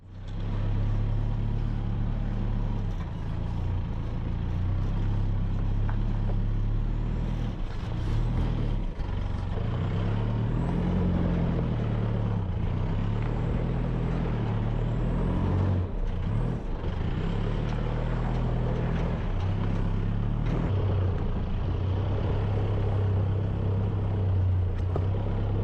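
A car engine drones steadily and loudly uphill on the road to Cape Range National Park near Exmouth, Western Australia, its low hum shifting in pitch as it climbs, with no talk.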